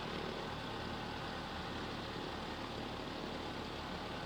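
A Cessna 152's piston engine idles just after start in Microsoft Flight Simulator 2020, a steady, even drone with a low rumbling throb that holds constant throughout, with no talking.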